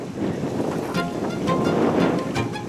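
Waves wash steadily on a lake shore, with constant surf and wind noise buffeting the microphone; no voices.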